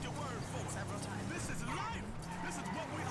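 Car driving in the GTA 5 video game, with a steady engine drone and occasional tire noise running throughout, while people talk in the background.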